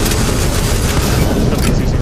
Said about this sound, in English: Somebody's using a bolt pistol